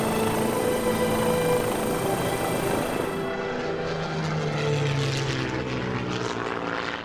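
A propeller airplane in flight, a loud continuous engine drone with steady tonal hum that shifts in pitch midway as it passes, with no voices.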